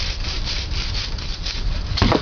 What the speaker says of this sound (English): After cutting through the major limbs,